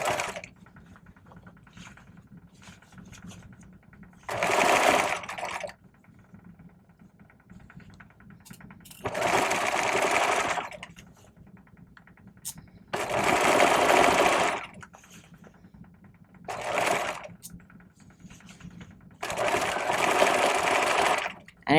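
A sewing machine stitches a vest's bag lining at the armhole with a 5/8 seam and backstitching, running in five separate bursts of a second or two each, separated by quieter pauses with faint handling noise.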